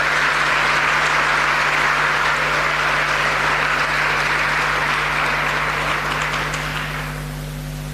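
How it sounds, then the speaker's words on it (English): Sustained audience applause at a senior living community event, a dense, steady wash of clapping from a crowd that holds for several seconds before tapering off slightly at the end. "a round of applause to all the seniors who put in the effort"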